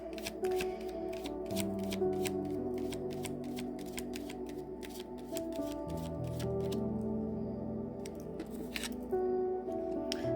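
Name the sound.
shuffling Star Seed Oracle card deck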